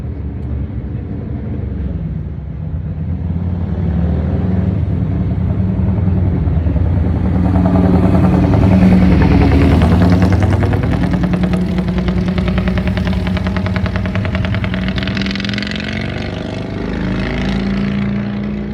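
Steady engine roar of motorcycles passing along a street, rising to a peak midway and fading slightly, with no talking.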